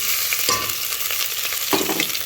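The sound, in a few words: ginger and garlic frying in onion oil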